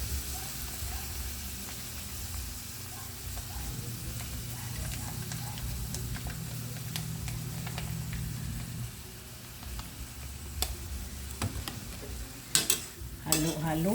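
Chilli garlic shrimp frying in a pan while being stirred, a steady soft sizzle with scraping and light clinks of a utensil against the pan, getting busier near the end; no talking.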